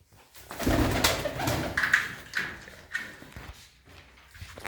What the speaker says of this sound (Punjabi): ਖਟੀਆਂ ਅੱਖਾਂ ਦਾ ਕਬੂਤਰ ਆ ਬੜਾ ਵਧੀਆ